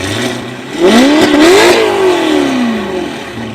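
A car engine with a valve-controlled exhaust set to loud mode revs hard nearby, climbing in pitch to a roaring peak, then winding back down over a few seconds.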